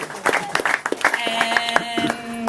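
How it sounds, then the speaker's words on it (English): An audience at an exhibition opening gives scattered, light applause, with sharp claps mixed among voices talking nearby. "if we could please give a round of applause"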